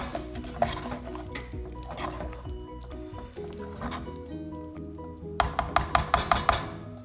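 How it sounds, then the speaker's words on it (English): Thick cooked red split lentil dal stirred in a pot off the heat, with soft squelching scrapes through the first part, then a run of quick, sharper clinks of the spoon against the pot near the end. "Just give that a stir."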